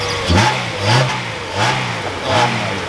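A Honda K-series engine in an Acura RSX Type S revs in four repeated bursts, each throttle blip rising and falling, loud and close with no voices over it.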